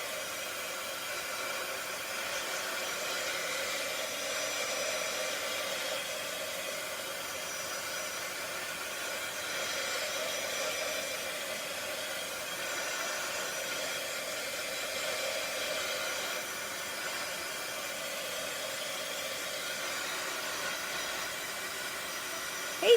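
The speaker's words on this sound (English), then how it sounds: "And then I'm going to take my heat tool and I'm just going to dry this." A heat tool blows steadily while drying craft ink, a constant airy whooshing hum that runs unbroken for over twenty seconds at moderate, close volume.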